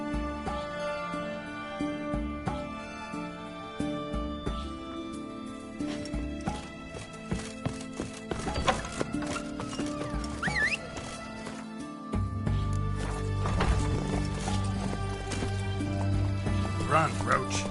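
Roach the horse runs in The Witcher 3, with rhythmic hoofbeats amid game sounds and music, and a deeper rumble joining partway through.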